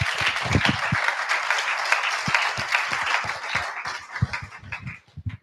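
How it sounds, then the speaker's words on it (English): Audience applause at a university seminar's final presentations, a dense, sustained wave of clapping close by that thins toward the end. "please give all the participants a big round of applause"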